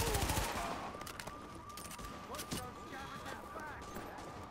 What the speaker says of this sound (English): Shooting me now.